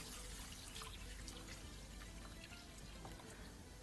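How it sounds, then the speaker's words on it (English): Store-bought rice being rinsed under a running tap gives a steady, quiet wash of pouring and splashing water with scattered drips, heard alone without talk. "So I'm just going to rinse my rice very briefly."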